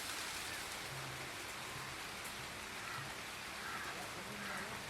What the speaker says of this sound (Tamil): அதுக்குள்ள மழை நிறைய வந்துட்டு இருக்குங்க.